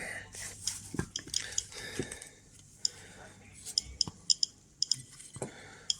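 Factory-original lid of a professional laboratory beta radiometer being handled and closed, a series of light plastic clicks and taps, close and fairly quiet, with a voice speaking at the start.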